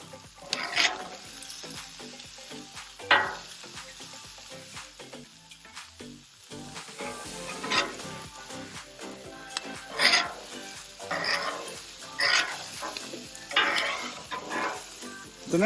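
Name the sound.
veggies cooking on a flat top grill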